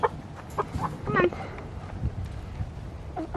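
Chickens clucking in a backyard flock while new hens are introduced, with short close squawks and clucks scattered over a busy scene and people talking nearby.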